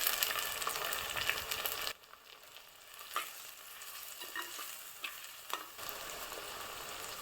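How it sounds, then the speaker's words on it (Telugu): Onions, tomatoes and curry leaves frying in a pan for a village-style prawn curry, a steady close sizzle with a brief quieter dip and occasional stirring clicks. "ఆనియన్ కొంచెం వేగిన తర్వాత అందులో టమోటాలు వేసి వేపుకోవాలి."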